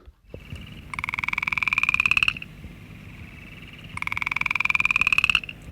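Frog calls in a sped-up recording sound as two long, rapid trilling pulses, loud and close, separated by a short gap over a faint background hum.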